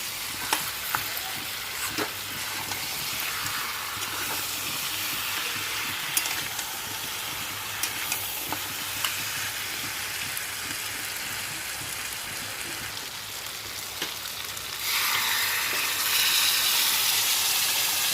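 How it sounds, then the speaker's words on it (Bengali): Fish head frying with spices in a pan, a continuous close sizzle and hiss with occasional stirring clicks, growing louder and brighter near the end. "দিয়ে এটা ভালো করে ভেজে নেবো আরেকবার। ভালো করে মশলার সঙ্গে মাখিয়ে নেড়ে নেড়ে মাখিয়ে নেব।"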